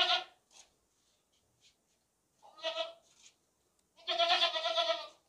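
A healthy, castrated two-tooth sacrificial goat bleats close by, with one short bleat, a second after a pause, and a longer loud bleat near the end, with quiet gaps between them.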